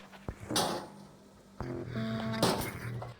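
Loot container being opened in the video game Arc Raiders, with two loud metallic bangs followed by creaking, rattling mechanical sounds and a tonal hum, all close and with no talking.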